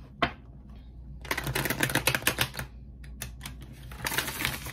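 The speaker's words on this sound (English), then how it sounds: "Let me get one good shuffle real quick," A deck of tarot cards is shuffled by hand, with bursts of rapid riffling clicks and flutters separated by short pauses, close and fairly clear, no speech.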